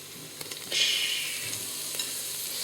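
Chilli con carne base with mince sizzling in a hot frying pan, a steady close hiss that swells sharply as the meat goes in, with faint stirring knocks and no talk.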